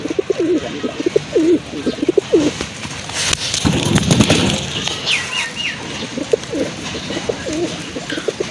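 Fancy black-and-white pigeons coo repeatedly at close range in soft rolling phrases, broken midway by a brief burst of rustling or flapping noise before the cooing resumes.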